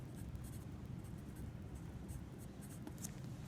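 Chalk or marker writing on a board during a geometry lesson, a soft continuous scratching texture with faint strokes over steady room noise, no talking.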